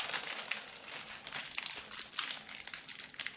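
Crinkly plastic wrapper of a Pokémon Silver Tempest card booster pack being torn and opened, close and continuous rustling with sharp crackles throughout.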